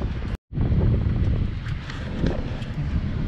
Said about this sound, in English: She's fucking windy out here.